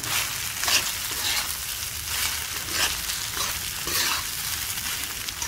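Sabudana khichdi with salt and peanut powder is sautéed in a pan, a continuous crackling sizzle broken by rhythmic spatula scrapes about once a second, close and even, with no voices.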